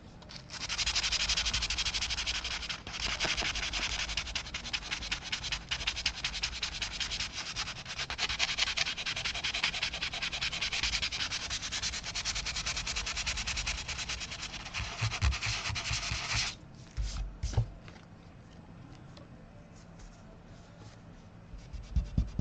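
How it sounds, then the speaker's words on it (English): Sandpaper worked back and forth across a wooden Les Paul kit guitar body, a loud, close, steady rasping rub for about sixteen seconds, then a few lighter strokes and handling knocks. "I'm gonna end up having to sand that off of there."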